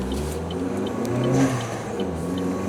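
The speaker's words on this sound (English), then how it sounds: "Car coming up behind us, but he's way back there yet." A car closes in from behind on a road, its steady mid-pitched engine hum and tire noise heard from inside a moving vehicle during a weekday commute, no talking.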